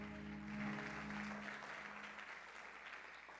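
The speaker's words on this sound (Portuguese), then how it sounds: "Aplauda mais uma vez aí." Church congregation clapping during a worship service, a sustained round of applause that slowly fades, with a low hum underneath.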